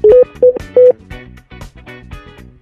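Telephone number being dialed: three short DTMF keypad tones in quick succession, loud and clear, followed by a burst of distorted, tonal electronic sound resembling a phone line connection.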